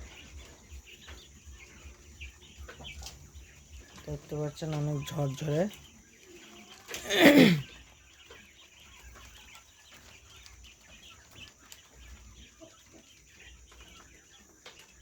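Quails about forty days old, kept in a cage, give a few short chirping calls, one burst louder than the rest, amid quiet surroundings, while a person talks briefly nearby.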